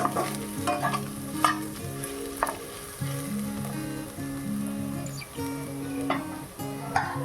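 Onions fry in a pan in a home kitchen, a steady sizzle broken by repeated scraping strokes of a spatula stirring them, close and fairly loud.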